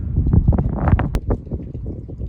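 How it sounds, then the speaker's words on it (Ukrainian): Strong gusty wind on a cold farm morning near a goat shed, buffeting the microphone in heavy irregular low rumbles and bursts. "вітер поривчастий, часом пориви дуже сильні"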